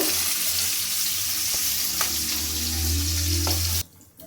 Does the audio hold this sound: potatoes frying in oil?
yes